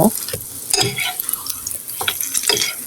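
Stale roti coated in beaten egg frying in a pan and being flipped, with scraping and stirring clatter over a steady sizzle, a few sharper utensil knocks standing out near the close.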